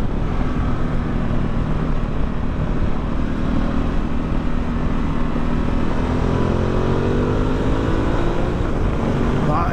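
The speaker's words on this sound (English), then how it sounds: "Engine note is gorgeous." A Ducati Multistrada 1260 S Grand Tour motorcycle, a 2020 model, with its engine droning steadily and fairly loud under a rush of wind. Near the end the note climbs as the revs rise.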